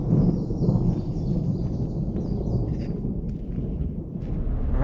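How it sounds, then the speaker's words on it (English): Thunder rumbles low and steadily for several seconds over a farm field during pearl millet planting as a rainstorm moves in, with a continuous deep roll and no talking. "Thunder. Feel the thunder."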